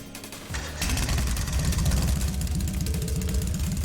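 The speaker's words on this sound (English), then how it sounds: "Right, for starting up the engine." An orbal bike engine in Trails of Cold Steel kicks into life after a brief mechanical click, then settles into a loud, steady, pulsing idle chug that holds close and even to the end.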